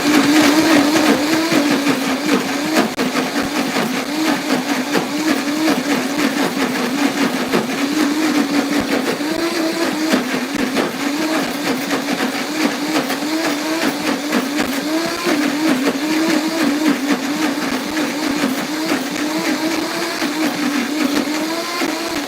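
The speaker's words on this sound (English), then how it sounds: "the Vitamix is known as the Cadillac of blenders" A Vitamix blender runs steadily for the whole stretch, blending sauerkraut into a smooth, creamy puree. The motor whine is loud and close, with a constant wobbling pitch and no pauses or speech.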